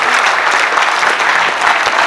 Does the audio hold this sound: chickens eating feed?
no